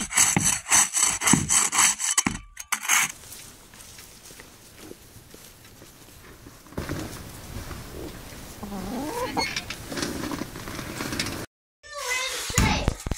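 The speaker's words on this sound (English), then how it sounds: "It's like you're mining for ice?" Ice being scraped and broken with a tool outdoors at an off-grid cabin in winter, rough scraping and chipping bursts, fairly close, with children's voices and brief talk at times.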